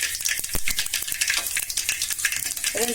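Fenugreek seeds frying in hot oil for radish sambar, giving a steady close sizzle with light crackles and a few stirring taps throughout.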